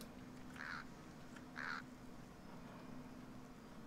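Two short crow-like caws in the video game Lord of the Rings Online, fairly distant and faint, spaced about a second apart over a steady low in-game ambient hum.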